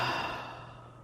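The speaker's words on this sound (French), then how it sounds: "prendre une inspiration" A single soft breath, a slow sigh-like exhale that fades over about a second, close and quiet, taken during a guided meditation.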